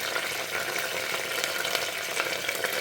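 Curry leaves and green chillies sautéing in hot oil in a pan, a dense, close, continuous crackling sizzle with scattered sharp pops, no voices.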